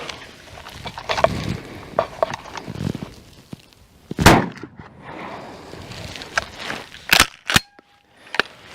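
Shotgun shots fired with a load of pellets: a few sharp, loud reports, one near the middle and others close together toward the end, with quieter clicks and handling knocks between them.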